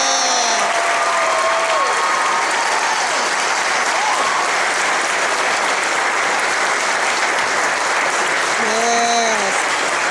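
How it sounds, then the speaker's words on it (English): An audience at a police academy graduation applauds steadily for the whole stretch, with voices speaking briefly over the clapping at the start and end. "Let's give Session 261 another round of applause."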